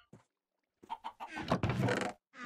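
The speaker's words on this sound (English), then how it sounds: "Look at you chickens in here, hanging out." Chickens in the Minecraft video game cluck in short, close bursts, with a brief cluck at first, then a quick run of clucks building into a dense squawking flurry, and a final cluck after a pause.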